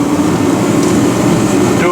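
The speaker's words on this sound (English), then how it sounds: "Sorry about the noise, I got the heat going." A heater runs with a steady broadband whoosh and a low hum, close and continuous, filling the space in a garage or shop where a Ford F250 is being worked on.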